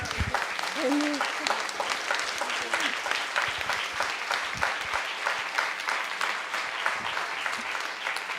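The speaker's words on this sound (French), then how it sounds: "On peut l'applaudir encore." An audience at a fashion show keeps up continuous applause for a designer's first runway show, a dense, moderately distant wash of clapping with a voice briefly speaking over it early on.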